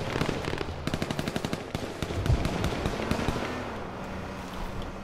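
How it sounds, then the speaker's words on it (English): Rapid bursts of automatic gunfire crackle in the H1Z1 video game, a string of sharp shots at a steady clip for a couple of seconds, then thinning out into scattered pops over a low background hum. "I'm taking shots."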